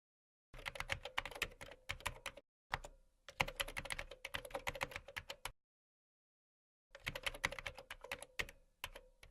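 Fingers type text on a computer keyboard at close range, giving soft, rapid key clicks in three bursts separated by short silent pauses, with no other sound present.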